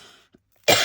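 After a near-silent pause, a single sharp, close cough bursts out.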